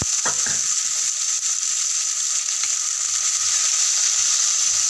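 Chickpea sundal sizzles steadily in hot oil with urad dal, red chilli and curry leaves, a bright continuous frying hiss with a few faint clinks of stirring near the start.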